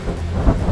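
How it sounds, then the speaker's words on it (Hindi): Heavy rain with thunder, a steady low rumble and wash of rainfall running throughout with a slightly stronger swell midway, brief and continuous with no voices. "बहुत बारिश हो रही है, अब तुम लोग घर जाओ।"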